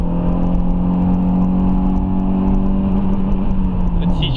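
A Renault Scenic RX4 running on LPG holds a steady high-rpm drone as the engine sits at its rev limiter, loud and continuous, with a slight drop in pitch near the end.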